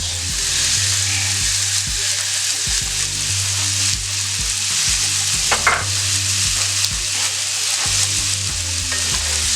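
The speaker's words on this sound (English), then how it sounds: "And we're going to get these nice and sauteed down." Green pepper and scallions sizzle steadily in a hot skillet, a loud continuous frying hiss with light stirring clinks and scrapes throughout, plus a low background hum.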